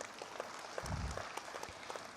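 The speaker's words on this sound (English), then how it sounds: "Please support with a round of applause for everybody" An audience at a public government program with the Union Finance Minister claps for a couple of seconds, a dense patter of hands heard from a distance at a fairly low level.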